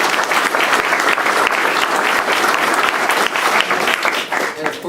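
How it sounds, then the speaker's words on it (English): Loud, dense applause from a crowd at a new police station dedication ceremony, a steady wash of many hands clapping throughout with some voices mixed in. "Give them a round of applause, please."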